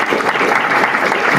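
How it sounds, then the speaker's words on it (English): A pitch event audience gives a loud, dense round of applause, steady and close throughout with no speech over it. "Let's have a round of applause."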